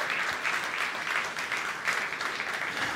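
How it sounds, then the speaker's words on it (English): Steady, dense audience applause fills a hall at a camera launch event, a continuous roar of many hands clapping at even volume throughout. "Firmware, I heard the applause"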